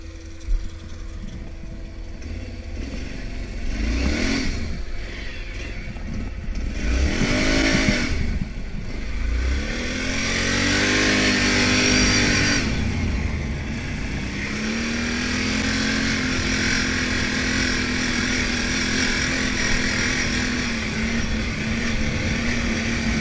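ATV engine riding a 50-inch two-way trail at Cedar Creek, a steady motor drone with revs rising and falling as it climbs and shifts, close and continuous throughout with no talking.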